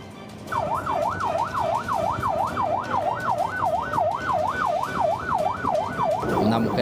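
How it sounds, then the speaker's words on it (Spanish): Ambulance sirens wail as they leave the Palmasola prison, a loud, regular rising-and-falling tone cycling steadily over traffic rumble, with a vehicle sound swelling near the end. "varias ambulancias salían del penal de Palmasola"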